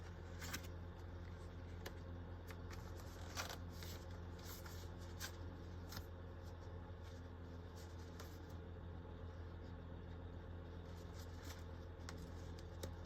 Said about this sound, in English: This is almost impossible for me to shuffle.